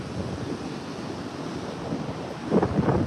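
Ocean surf at a Texas beach, a steady rushing wash of waves mixed with wind buffeting the microphone and a slightly louder swell near the end.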